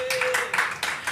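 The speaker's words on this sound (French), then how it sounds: "On peut l'applaudir." A few people clap in quick bursts to welcome guest Luc Boland at a small studio microphone, brief and close, with a faint voice tone at the start.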